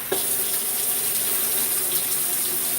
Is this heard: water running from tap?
yes